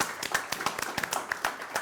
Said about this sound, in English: I would love for them to give themselves a round of applause for just showing up